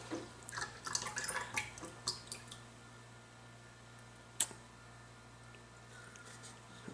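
Ginger ale poured into a glass and left fizzing, a soft close crackle of bubbles with scattered small pops and one sharper click, quiet and steady.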